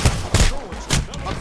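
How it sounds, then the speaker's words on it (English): Gunfire in Apex Legends, several heavy shots landing in quick uneven bursts, close and loud, mixed with faint voice sounds. "They're shooting at me."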